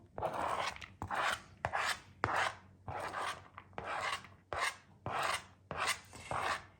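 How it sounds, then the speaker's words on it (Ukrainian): An onion is finely chopped with a knife on a board for belyashi meat filling, making about nine rhythmic, rasping strokes, each a loud, close scraping burst with brief gaps between them. "Дуже міленько ріжу цибульку."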